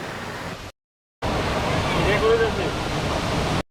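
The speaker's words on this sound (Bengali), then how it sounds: "ঝর্ণায় প্রচুর পানি আছে এই বৃষ্টির সময়" Madhabkunda waterfall runs full after monsoon rain, giving a loud, close, continuous roar of rushing water that breaks off for a half-second gap before resuming.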